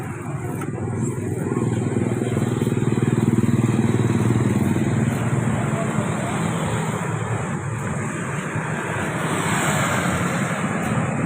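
Busy street traffic near the Jembatan Merah bridge in Indonesia, with motorcycles passing, gives a loud, continuous close engine roar that swells and holds for several seconds.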